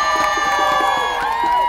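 A concert crowd at a Latin music festival in Curaçao cheers and whoops in a loud, sustained roar with shrill voices rising over it.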